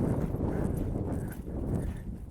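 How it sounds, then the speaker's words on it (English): Horse hooves beat in a counter canter, a rhythmic run of muffled thuds at a moderate distance over a soft surface, with no voices. "I'm going to go into the counter canter"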